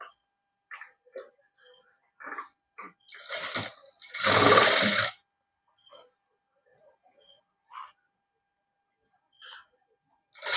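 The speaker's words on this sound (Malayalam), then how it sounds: "എന്നിട്ട് നമ്മൾ സ്റ്റിച്ച് ചെയ്യുന്നു" A sewing machine stitches a fabric cap piece in one loud, steady burst of about a second, with a person talking quietly before and after.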